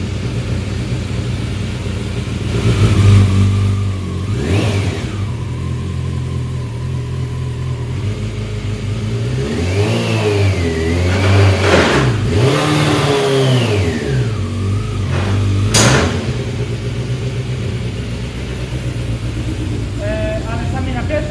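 A van fitted with a motorbike engine revs up and accelerates in repeated rising and falling surges, loud and close, with voices talking over it.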